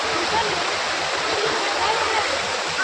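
A waterfall at Gaumukh near Surat roars steadily, a loud continuous rush of falling water with no breaks.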